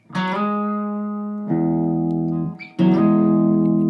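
A sustained guitar note is struck, then another picked note slides up in pitch and rings out, with a final note attacked and held at the end.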